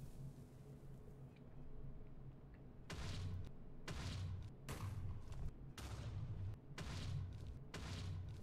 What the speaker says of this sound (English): All right, that's about 10 explosions